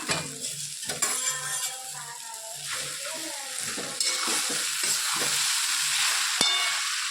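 Spices with turmeric and salt sizzle and fry in a pan for a bhakarwadi sabji while being stirred, giving a continuous close crackle broken by scraping stirs and a few sharp clinks.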